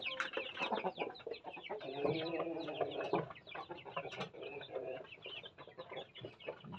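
A flock of chickens, including chicks sick with coryza, clucks and chatters continuously nearby, a busy overlapping mix of calls at moderate volume.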